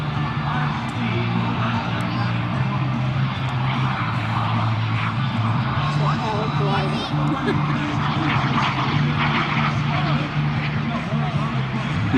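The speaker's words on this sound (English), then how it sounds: "he goes into the only sailplane in the world capable of such high speed" Jet-powered sailplane flying low at an outdoor air show, producing a steady, loud engine roar and whine that holds throughout with faint crowd noise beneath.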